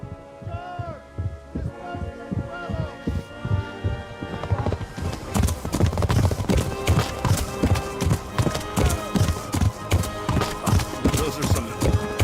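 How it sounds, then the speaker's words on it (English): Galloping horse hooves in the video game Kingdom Come: Deliverance, a loud, rapid, rhythmic thudding that starts sparser and grows dense and heavy, with a faint musical hum beneath early on. "are some extremely loud"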